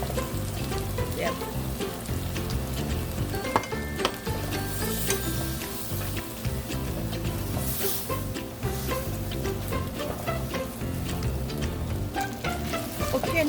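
Pad Thai rice noodles sizzle and fry steadily in a hot pan, with repeated scraping and stirring clatter from a utensil close up, continuous and fairly loud with no talking.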